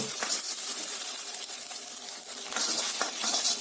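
Eggs seasoned with salt and black pepper fry for street-style egg chicken chowmein, a steady close hiss with light scraping and clinks of a utensil against the pan throughout.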